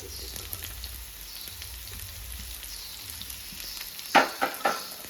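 Chicken liver fries in a pan with pepper powder, a soft continuous sizzle up close, ending in a few sharper knocks of a utensil against the pan.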